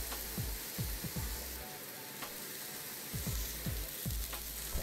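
Oiled meat sizzles steadily on a hot grill, with a dense hiss and crackle filling the whole stretch and occasional low thumps as it is handled with a spatula. The sound is close and continuous, with no talking.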